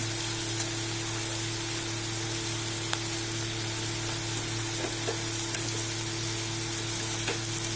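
Onions and carrots frying in a pan for onion samosa filling: a dense, continuous sizzle with scattered pops and crackles over a steady low hum, and no voices.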